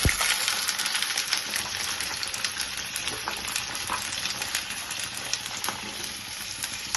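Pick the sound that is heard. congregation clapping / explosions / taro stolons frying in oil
taro stolons frying in oil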